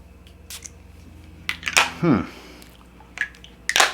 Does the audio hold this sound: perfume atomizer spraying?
yes